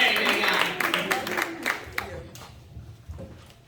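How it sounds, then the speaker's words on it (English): A crowd claps as Queen Nola is brought up, the applause loud at first and thinning into scattered claps, with voices talking underneath. "Start clapping"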